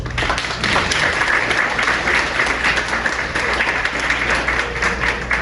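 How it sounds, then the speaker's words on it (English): Steady, loud applause from an audience at an animal shelter's masquerade ball, continuous clapping filling the room for several seconds with no voices above it. "if we could give him a round of applause"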